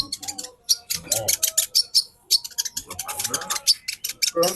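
A female konin hummingbird chirps rapidly and almost continuously in quick bright notes, close by, while people talk over the calls.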